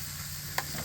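Barbecue pork chops coated in BBQ sauce sizzle on the heat, a soft steady hiss with one quick scrape or flip partway through, and nobody speaks.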